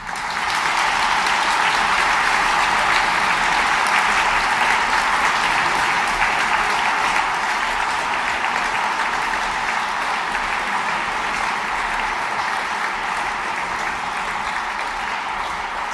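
Women in a church congregation at a Christmas midnight Mass applaud together, a dense, steady wash of many hands clapping that holds evenly for the whole stretch without voices.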